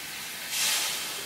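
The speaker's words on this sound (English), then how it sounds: "so it get a little steam around it." Water splashed into a hot pan on the stove sets off a sudden hiss of steam that swells midway and lingers at a steady, moderate level.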